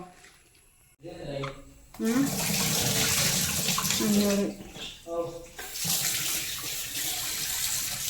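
Tap water runs and splashes as bamboo shoots are washed in a kitchen sink, starting after a short quiet moment and continuing strongly with brief dips, while a voice talks over the flow.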